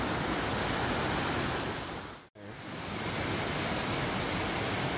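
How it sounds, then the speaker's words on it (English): A river runs high after rain, giving a steady, loud broadband rush that fills the whole scene. It breaks off for an instant in the middle before carrying on unchanged. "there was some rain and the water is really high, but yep, this is the river I was talking about"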